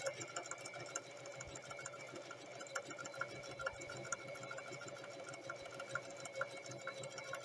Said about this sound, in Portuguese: Deixa a velocidade e o tecido ser levado pela máquina